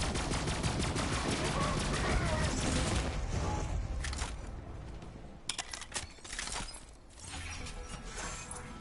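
Rapid automatic fire from a green SMG in Borderlands 3 clatters in dense bursts, then thins into a few sharp separate shots and impacts, loud and close.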